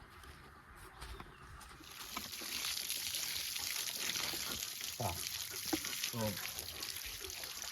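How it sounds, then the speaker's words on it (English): Water from a garden hose gushes into the drain of a badly scaled electric water heater tank, a steady rushing flow. Someone speaks briefly over it. "I'm just gonna use the hose and flush it out."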